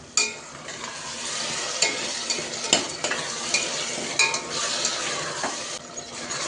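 Onion and tomato cook in a pan over a low flame, giving a steady soft sizzle with repeated scraping and stirring clinks of a utensil against the pan, close and continuous with no voices.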